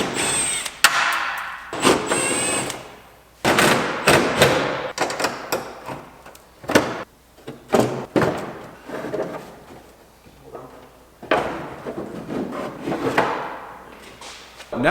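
Tools working to remove bolts from the front bumper of a Nissan 240SX, heard as a run of close, irregular metallic clanks, knocks and scraping bursts with pauses between them.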